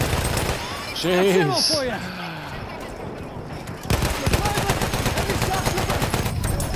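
An MG15 n.A. machine gun fires in a video game on the Argonne Forest map. A fast, steady burst of rapid shots runs through the second half, after a brief exclaimed voice near the start.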